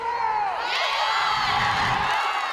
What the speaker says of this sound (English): Echoes of chants filled the air as Fighting Illini fans cheer for their favorite team.